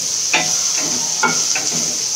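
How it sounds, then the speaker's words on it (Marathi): Onion fries in a little oil with green chili going in, giving a steady broadband hiss broken by a few close scraping stirs at an irregular pace. "आणि आता हा कांदा भाजत आलेला आहे."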